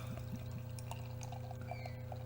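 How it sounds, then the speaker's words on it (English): Hazy homebrew beer, a 7% ABV Dank Tropics IPA, being carefully poured into a glass: a soft, quiet trickle of liquid close by, steady and brief, with no talking. "we're going to be careful when we pour this"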